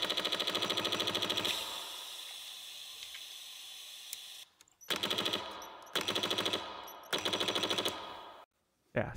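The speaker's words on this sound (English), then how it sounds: "The weapon itself, he's going to shoot it here in a second." A fully automatic gun in a video game fires in rapid sustained bursts, a long opening volley followed by several shorter bursts separated by quiet gaps, loud and close with no talking.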